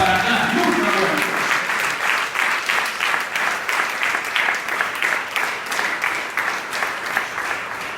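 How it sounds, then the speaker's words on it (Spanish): A church congregation breaks into applause, a voice briefly heard at the start before rhythmic, fairly loud clapping carries on steadily, with a few cheers mixed in. "Dile un fuerte aplauso"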